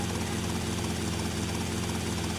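A police helicopter passes overhead, its rotor producing a steady, loud, continuous whirring drone without a break.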